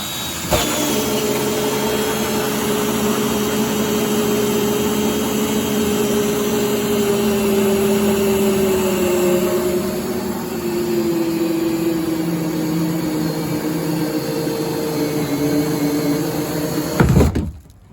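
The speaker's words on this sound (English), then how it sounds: "making sure that I'm drilling at a 90-degree angle, I'm going to start to drill" A power drill whirs steadily at close range, drilling into the plastic of a sit-inside kayak for a long, continuous stretch, its pitch dipping slightly midway before it cuts off abruptly.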